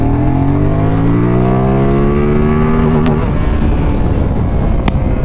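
A Qjmotor Race 550s motorcycle with a 270-degree crank accelerates hard, its engine note climbing through the revs, snapping through a gear change around the three-second mark, then pulling on as a loud close rasp with wind roar.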